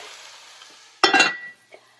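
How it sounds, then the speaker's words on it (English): Whole rabbit pieces go into a hot pan. A faint steady hiss is followed by a sudden short burst of sizzling that flares for about half a second and then settles back, with one small clink afterward. "So we're going to quickly sear our whole pieces of rabbit"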